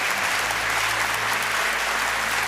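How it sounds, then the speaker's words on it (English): Steady, dense applause from an awards ceremony audience at the Young Inventors Prize, holding loud and even from start to finish with no speech over it. "Big applause. That's great."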